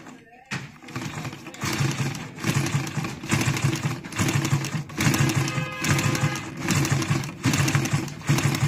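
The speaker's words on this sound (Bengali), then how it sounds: "এখন যদি আমরা সেলাই করি" Sewing machine stitching very thin fabric runs continuously at close range, a steady rapid mechanical clatter with rhythmic needle pulses throughout, loud and without talk.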